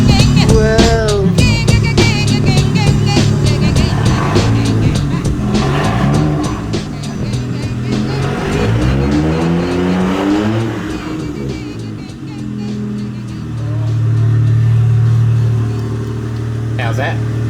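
A restored 1JZ turbo Toyota Soarer drives and revs, its engine rising and falling in pitch through several pulls, ending on a steady low drone, with voices talking over it.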